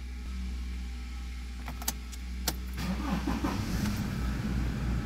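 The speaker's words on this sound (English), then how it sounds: "Okay, so the vehicle starts on the turn." 2009 Toyota Fortuner with a 3.0-litre D4D diesel engine starting, a low steady idle hum preceded by faint clicks, then the engine catches and settles into a louder, rougher diesel rumble.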